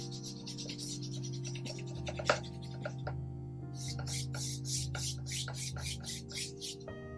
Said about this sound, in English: I am just rubbing my brush along the sides